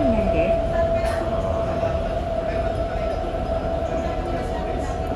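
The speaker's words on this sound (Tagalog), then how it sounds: "may train inside the airport" An airport train runs inside Incheon Airport, giving a steady rumbling rail roar with a high whine throughout, heard from inside the carriage with background murmur.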